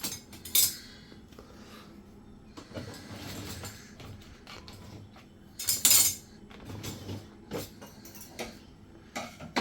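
Big metal spoons, freshly cleaned in a dishwasher, clink and clatter against each other in a few sharp, bright bursts separated by quieter handling noise, close up with no talking.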